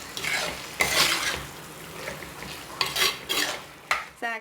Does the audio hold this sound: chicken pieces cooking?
yes